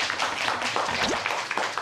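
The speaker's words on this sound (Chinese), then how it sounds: "加油，给他的梦想鼓鼓掌" Studio audience applause on a Chinese television talk show, a steady broadband wash of clapping lasting under two seconds at moderate level, with no talk over it.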